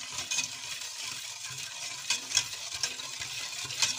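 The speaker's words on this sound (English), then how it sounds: "Mix well." Sugar being stirred into a panna cotta mixture in a home kitchen, with soft scraping and light clinks of a utensil against the pot, close and fairly quiet, with no talking.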